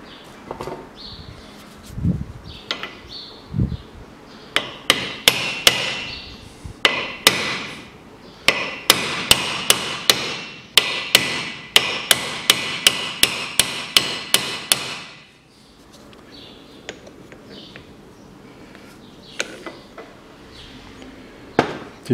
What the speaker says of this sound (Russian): Здесь его забиваем.